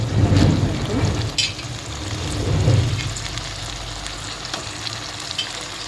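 Chicken sizzles loudly in a hot pan with stirring scrapes and bursts of hiss, the frying swelling and settling over the whole stretch.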